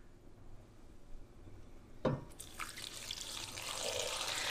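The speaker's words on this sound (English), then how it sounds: "So now I'm just going to cover this with water" Water is poured into a pot of red chilies, starting with a splash and building into a steady rushing stream, soft and close, after a faint quiet start.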